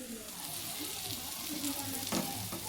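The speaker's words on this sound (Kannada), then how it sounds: "ಫ್ರೈ ರೆಡಿ ಆಗತ್ತ ನೋಡ್ರಿ" Fish frying in a pan of oil, a steady close sizzle with a brief louder burst of spattering near the end, no talk over it.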